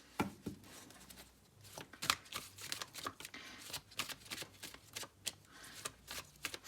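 Tarot cards being shuffled up close, with a brisk, uneven run of papery riffles and soft slaps.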